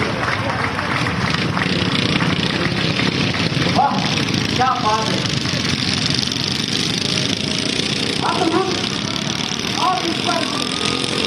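Motorcycle engines rumble loudly and steadily at an outdoor Azadi Ka Amrut Mahotsav celebration, a continuous drone throughout with someone talking over it and brief crowd noise.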